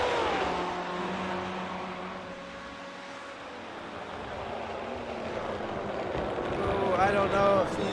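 A Corvette GTE race car engine in iRacing at the Charlotte Roval, a steady droning engine note that rises toward the end, heard under continuous commentary talk.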